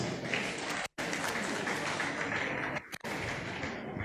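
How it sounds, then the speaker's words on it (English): Warm audience applause at an annual banking institute lecture, a thick, sustained wash of many hands clapping, with two abrupt momentary dropouts that cut the sound before it resumes at full strength. "let's give them a warm round of applause"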